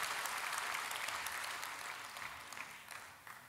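Church congregation applauding during a sermon, a dense wash of clapping from many people that slowly fades, moderately distant and without talk.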